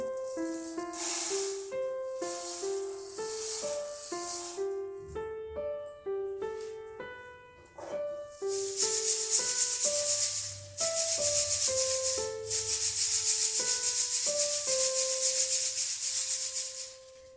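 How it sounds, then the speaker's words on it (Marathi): Jowar (sorghum) grain is sifted for bhakri flour, making a steady rushing, rattling hiss of grains shaken in a sieve. The hiss starts partway through, under soft background music. "सर्वात आधी पिठासाठी आपल्याला ही ज्वारी चाळून घ्यायची आहे"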